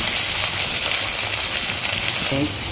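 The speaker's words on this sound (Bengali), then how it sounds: "যতক্ষণ না ব্রাউন হচ্ছে ততক্ষণ আমি অনিয়নগুলোকে ফ্রাই করে নেব" Onions and green chilies frying in oil in a pan, a steady close hiss and crackle of sizzling that holds evenly throughout, with a faint clink near the end.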